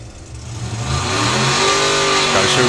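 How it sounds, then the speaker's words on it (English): A hot rod drag car launches off the line at a drag racing meet, its engine revving and building into a loud sustained roar as the tyres spin, heard close and alone. "But no, still blazes the tyres off the line."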